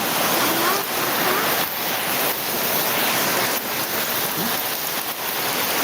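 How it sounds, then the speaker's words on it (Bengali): Heavy monsoon rain pours down steadily amid flooding water, a dense, unbroken hiss with faint splashes throughout. "অলরেডি প্রচুর পরিমাণে বৃষ্টি হতেছে"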